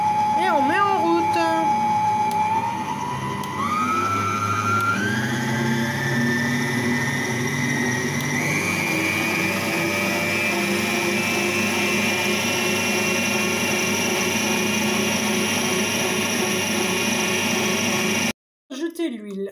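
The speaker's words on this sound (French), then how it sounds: "Et on va mettre ça au batteur." An electric hand mixer beats biscuit batter, a loud close motor whine that rises in pitch as it speeds up, then runs steady before stopping abruptly near the end.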